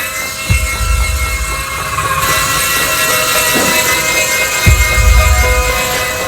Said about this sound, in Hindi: ये हेलीकॉप्टर गार्डन में चलाने के लिए है, घर पर नहीं।